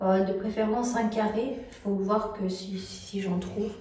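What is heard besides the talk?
No distinct noise like a dog, phone or traffic.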